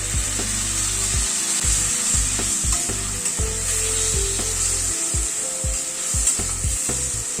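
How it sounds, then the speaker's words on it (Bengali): Whisked yogurt with salt, turmeric and spices sizzles in a pan over a low flame while being stirred for a pabda fish dish, a constant close frying hiss broken by frequent soft knocks and scrapes. "দইটাকে একটুখানি কষিয়ে নেব"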